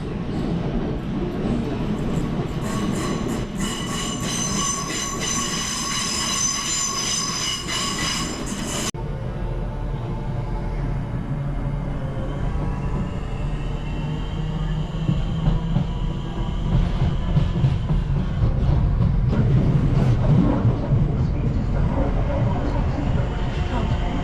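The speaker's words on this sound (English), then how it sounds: "Another train coming in." A London train rumbles and rolls into a station with a continuous heavy roar, a high metallic squeal at first, then clattering wheels growing louder as it nears.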